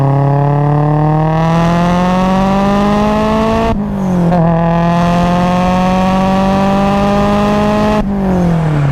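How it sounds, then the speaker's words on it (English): A 500 bhp Mitsubishi Evo 8 engine revs loudly while driving, its tone climbing steadily under acceleration, then briefly dropping at two gear changes before rising again, heard continuously with no talk. "So this is my first time ever driving a Mitsubishi Evo 8. Well, it sounds incredible."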